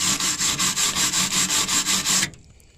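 Wire brush scrubbing rust off the bodywork of a 1964 Impala SS, about a dozen quick rhythmic rasping strokes up close that stop abruptly near the end.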